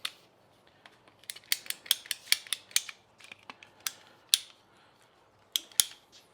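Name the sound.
ratcheting PVC cutters cutting PVC pipe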